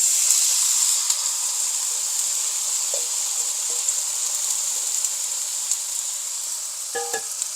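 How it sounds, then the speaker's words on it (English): Squash stir-frying in a tiny bit of oil gives a steady, close sizzle and hiss throughout, with a few light clinks of stirring near the end. "I'm just going to stir fry it like this."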